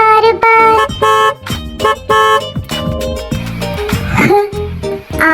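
Bright, tuneful horn toots honk repeatedly in a bouncy rhythm, playful and cartoonish, mixed with music and singing.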